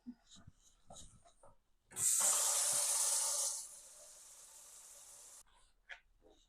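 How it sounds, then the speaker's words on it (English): Tap water runs into a home kitchen sink for a few seconds as hands are washed, a strong steady hiss that cuts off abruptly, with brief talk before and after. "let's go wash our hands"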